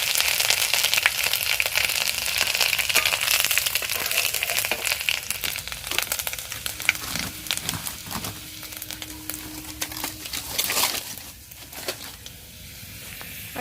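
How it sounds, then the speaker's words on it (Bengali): Ginger and panch phoron frying in fish oil, a dense, close sizzle full of sharp crackles and pops that thins slightly toward the end, with a few scrapes and no talking. "আদা পাঁচফোড়নটা ভাজা হয়ে গেছে"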